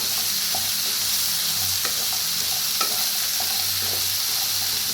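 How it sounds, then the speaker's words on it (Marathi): Bitter gourd pieces stirred and mixed in a hot pan with green chillies, a continuous loud sizzle under intermittent spatula scrapes and clicks, close up, with no voices. "आता ह्याच्यात टाकूया कारले चांगले मिक्स करूया"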